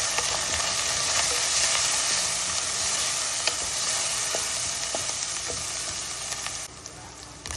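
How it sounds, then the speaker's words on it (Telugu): Sliced onions with ginger-garlic paste and turmeric frying in a pan for a flat bean and mutton curry, a continuous close crackling sizzle with occasional stirring scrapes, no speech. "చూడండి, అల్లం వెల్లుల్లి పేస్ట్ ఉల్లిపాయలు వేగిపోయాయి."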